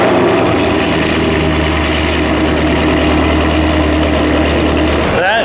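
Mercedes E63 with the M156 V8 running on E85 fires up from cold, a loud steady engine drone filling the space before cutting off abruptly near the end.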